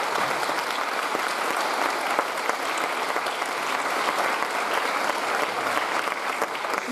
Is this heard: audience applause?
yes